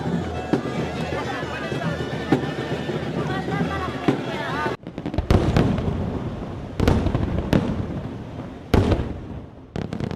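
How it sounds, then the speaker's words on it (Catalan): Fireworks castle closing the Santa Tecla festival in Tarragona, with dense crackling bursts followed by loud, sharp booming explosions, heard outdoors amid wind noise and crowd sound. "El castell de focs artificials posava el punt i final a unes festes de Santa Tecla per a tothom molt especials."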